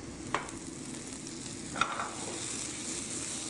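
Tomatoes tipped into a hot pan with chili and onion, a steady close sizzle with two sharp clicks of a utensil against the pan, no talk.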